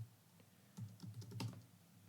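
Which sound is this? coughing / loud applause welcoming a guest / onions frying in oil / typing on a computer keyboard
typing on a computer keyboard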